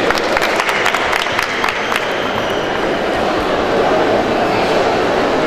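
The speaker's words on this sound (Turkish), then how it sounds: "Alkışlarınızla iletiyoruz." Loud, close applause from a large crowd at the opening of the Bursa book fair, dense clapping sustained throughout with a general murmur beneath.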